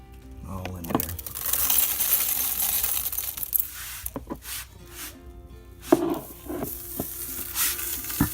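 Stainless steel pins tumbling inside a REBEL17 brass pin tumbler, a close, uneven metallic rattle and clatter with scattered sharp clinks and bursts, fading and surging.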